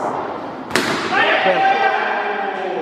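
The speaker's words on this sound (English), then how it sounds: "Textbook drive there from Muzzle to get off the mark" An indoor cricket match has one sharp crack of bat striking ball on a drive, followed by crowd noise and commentators talking over the shot.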